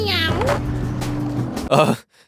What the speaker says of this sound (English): I think there's something wrong with my cat.